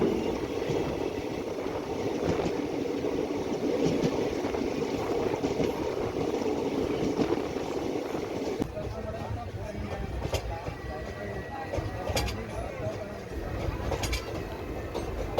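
A train rumbles along steadily, a broad continuous roar with occasional clicks and knocks, loud and close, with no talking.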